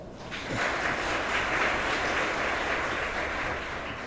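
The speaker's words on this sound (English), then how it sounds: "Please welcome him with another round of applause." Audience applause welcoming the keynote speaker at a Model UN conference, a steady broadband wash of clapping that swells in after a brief moment and holds evenly at moderate volume throughout.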